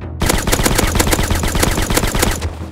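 Rapid automatic gunfire in the survival video game Rust, a loud, close, sustained burst of evenly spaced shots lasting over two seconds, with no talking over it.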